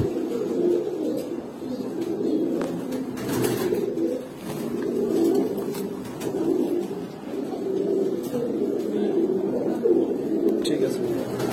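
Domestic pigeons, including big-sized homers and a racer hen, coo in a low, continuous rolling murmur close by, with several birds overlapping and a faint chirp now and then.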